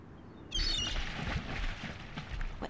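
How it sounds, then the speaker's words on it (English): Seagull calls in the video game The Longest Journey, a high squawking cry starting abruptly and repeating over a steady ambient game backdrop with low rumbling sounds. "It's a seagull. The poor guy looks quite hungry."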